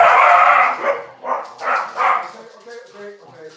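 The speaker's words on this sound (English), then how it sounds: "I guess all the dogs are gonna come in now." Several dogs coming indoors give a few barks and yips up close, mixed with a person talking over them.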